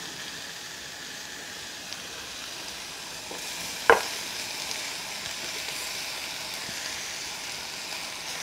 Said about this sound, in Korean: 다 볶아졌으면 이제 야채를 넣고 볶으실 거예요.